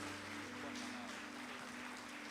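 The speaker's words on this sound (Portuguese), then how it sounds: "As palmas são para Jesus" Faint applause for Jesus from a church gathering, a soft, steady patter of clapping with a low hum beneath it.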